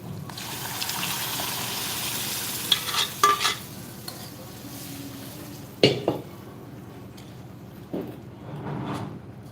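Mashed spinach and chana dal with toor dal tipped into frying masala in a home kitchen: a wet, sizzling stir with a few sharp scrapes and splats, loud and close, no talk.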